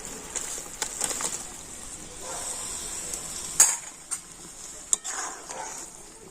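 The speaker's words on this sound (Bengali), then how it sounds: "আবারও আমি এই চিনি শিরার সাথে চাল কুমড়া কিন্তু খুব ভালো করে ফুটিয়ে নেব" Ash gourd pieces simmer in foaming sugar syrup, giving a steady hiss and sizzle with occasional stirring scrapes and light clinks against the pan. There is no talk.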